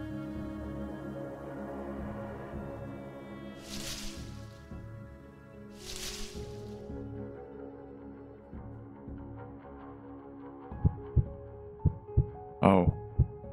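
A heartbeat in the Paper Lily video game thumps softly and low beneath ambient game hum, growing into sharper, louder beats near the end, with brief breathy swells earlier.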